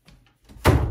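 A dog nudges a door closed with its nose, giving a single close, solid thunk as the door bumps shut after a faint shuffle.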